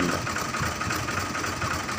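A 2007 New Holland Fiat 480 tractor engine idles steadily in a low, even rumble with a faint knocking pulse, running alone without speech.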